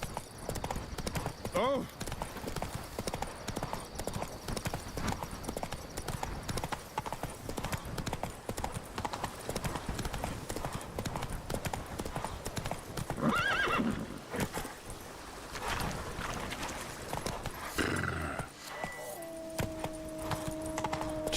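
A video game horse gallops with rapid, steady clip-clop hoofbeats and lets out a whinny partway through, while a person exclaims briefly over the sound.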